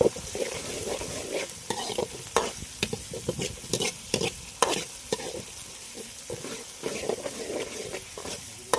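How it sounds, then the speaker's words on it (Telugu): Ginger paste frying in a pan over a wood-fired stove while being stirred, with a steady sizzle broken by repeated scraping strokes of the spoon, close up. "ఈ అల్లం పేస్ట్ మొత్తాన్ని పచ్చివాసన పోయేదాకా బాగా వేయించుకోవాలి"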